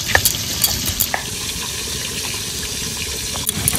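Fish frying in a pan, a continuous loud sizzle and crackle with occasional clinks and stirring scrapes.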